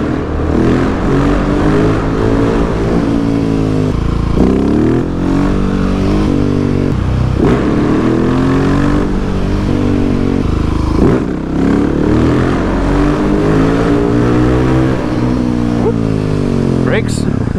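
Husqvarna 701 Supermoto single-cylinder motorcycle revving repeatedly during wheelie practice, loud rising and falling engine pitch close by, with speech over parts of the run.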